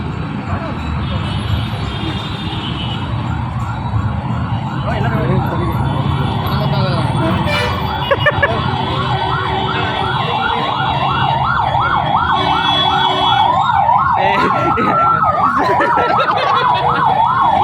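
An ambulance siren wails, rising and falling repeatedly over steady street noise, with people talking nearby throughout.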